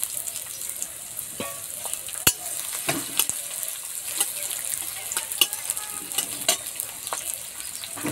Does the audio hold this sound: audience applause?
no